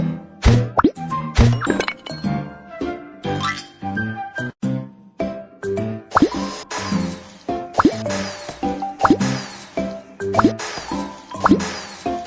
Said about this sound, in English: Yeah, it's frozen! Knock the ice out.